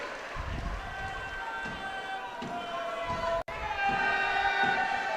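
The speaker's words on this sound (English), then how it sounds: "Here go the crowd again." A football crowd at a Wrexham AFC Women versus FC Pyunik Champions League qualifier roars continuously, with sustained chanting tones and a few dull thumps, loud and unbroken apart from one brief dropout.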